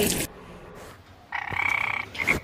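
A frog croaks in a short, fairly loud burst of repeated pulses that follows a brief pause, with no talking in the clip.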